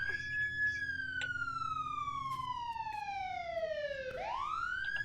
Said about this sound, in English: turn off the sirens. God damn, that shit loud.